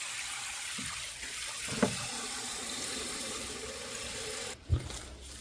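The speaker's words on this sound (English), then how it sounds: "Fill it full of water." Tap water running steadily into a container of warm dextrose mash made from Indian corn, oats, sorghum and barley, a continuous gushing hiss with a couple of brief knocks and a short pause near the end.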